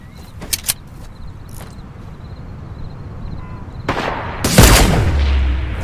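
Gunfire in the video game Fortnite: a few sharp distant shots early on, then a loud burst of fire with a low booming rumble near the end, over steady ambient game noise.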